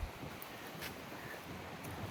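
Wind gusting through a small-town street on a February afternoon, a faint steady rush of broadband noise against the microphone.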